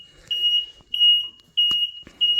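Electronic warning beeps from a 1990 Subaru Sambar, four sharp high-pitched tones spaced evenly with short gaps, loud and close with a faint click between.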